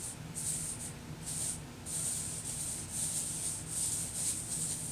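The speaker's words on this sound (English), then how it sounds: "I'm just going to rub them around with my finger very lightly" Fingertip lightly rubbing gilding flakes across a stenciled birthday card, a soft, close, rhythmic swishing friction in repeated short strokes over a faint steady background.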